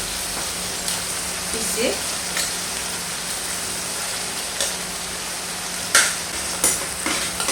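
An onion and garlic mixture cooks in a pot of chicken soup, giving a soft, continuous sizzle with occasional stirring clicks and knocks, while a voice speaks briefly.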